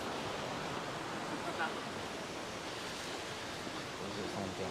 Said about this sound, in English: I think we have come to the waterfalls